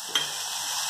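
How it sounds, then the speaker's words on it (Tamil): Salted dried fish sautés in oil with onions and chili powder, a bright continuous sizzle with one brief utensil tap near the start, heard close and alone. "நல்லா வதக்கிக்கோங்க."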